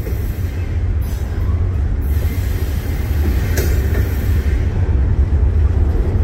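A train rolls steadily past close by, loud continuous rumble and wheel noise with faint clicking and brief squeals, no voices.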